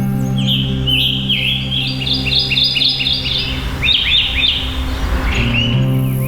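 Birds chirp and tweet in quick repeated phrases over a steady low rumble, several songs overlapping, fairly close and clear.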